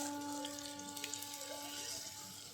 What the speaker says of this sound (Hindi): फिर इस मसाले में मैं पानी डाल के